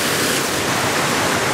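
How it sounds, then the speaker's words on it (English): A waterfall roars right beside a pool, a loud, steady, unbroken wash of rushing water with no other sounds. "Got the waterfall right here. I'm actually gonna go right next to the waterfall."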